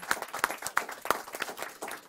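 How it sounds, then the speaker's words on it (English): Light, scattered clapping from a small group, uneven and brief, with sharp individual claps standing out. "that deserves a round of applause"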